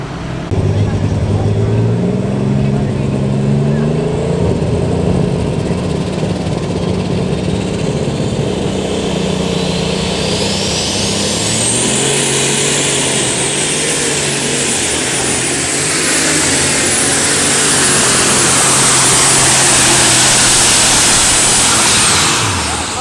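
Light super stock tractors roar down the track at a tractor pull, a loud sustained engine drone with rising and shifting pitch, while an announcer talks over the noise.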